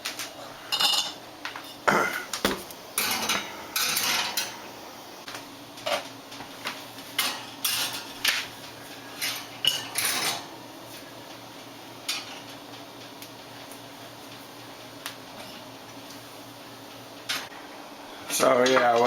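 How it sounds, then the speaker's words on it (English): Glass canning jars for peaches are shifted and set down, giving a series of irregular clinks and knocks of glass on metal, some close and sharp, with a steady hum underneath and no voices. "we're going to move the jars to the oven"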